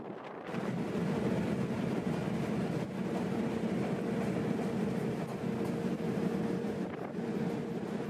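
A train carrying railway enthusiasts on a seaside excursion near Dunedin, New Zealand, rumbles along in a continuous, steady roar with wind buffeting the microphone.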